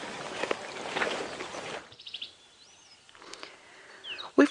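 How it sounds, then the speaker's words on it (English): Several birds call and chirp in the open bush at Twin Dams during an early-morning safari drive, with sharp tweets and short whistled notes over a quiet background that begins with a brief burst of louder noise. "We've got a variety of birds around here this morning."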